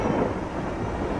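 Thunder from a thunderstorm rolls as a steady, loud, broadband rumble throughout, with no voices over it.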